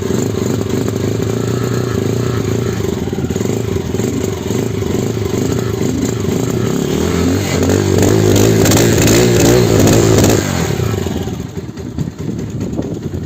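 A cold Spark 250cc motorcycle engine running and being revved, a clattering idle building into a louder rev burst that then drops back, recorded close up.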